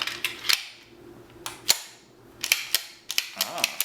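A CZ85 pistol slide is racked and locked back in a series of sharp metallic clicks and clacks, close and crisp, in several quick bursts separated by brief pauses.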